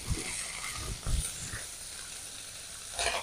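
Small fish frying in a pan of oil just after being turned over, a faint steady sizzle with a few soft spatula knocks and scrapes, quiet and close.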